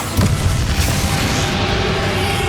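Bombarda explosion spell in the video game Hogwarts Legacy, a loud booming blast with a sharp burst near the start, followed by dense rumbling low-end noise that continues steadily throughout, with no talking.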